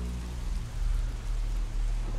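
Rain falling steadily, a dense continuous patter with a low rumbling undertone, even in loudness and without voices.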